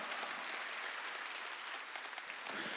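A church congregation at a Sunday worship service claps steadily, a dense, even patter of many hands heard from a distance at low level.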